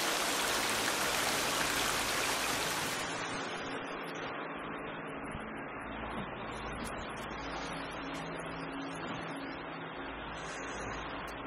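Water rushes and splashes in the video game The Forest, a steady hiss like flowing water or rain that is loud at first and then settles into a softer, continuous wash with small droplet ticks.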